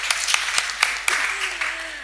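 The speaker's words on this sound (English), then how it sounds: "let's give them a round of applause" Audience applause at a constituency hustings event, a short burst of scattered hand claps from a modest crowd with a voice speaking over the end.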